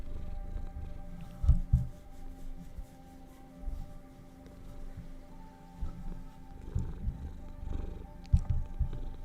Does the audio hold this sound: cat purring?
yes